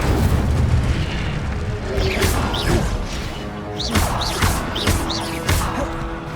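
The Incendio fire spell cast in the video game Hogwarts Legacy, several loud whooshing fiery blasts and impact booms in quick succession over a steady rumble of ambient sound.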